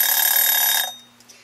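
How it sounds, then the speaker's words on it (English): A kitchen timer rings during stovetop polenta cooking, a loud, bright metallic ringing lasting just under a second before cutting off into quiet. "Our timer has rung."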